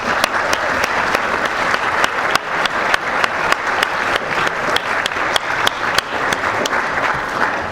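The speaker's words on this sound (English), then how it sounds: "Big round of applause." Sustained audience applause at a debate event, a thick, even wash of many people clapping, loud and close, with a few sharper individual claps standing out and no speech over it.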